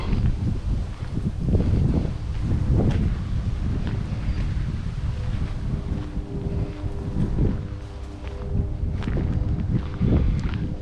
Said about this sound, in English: It's a bit of a windy day today, so you can hear the rustling of the leaves, the movement of the branches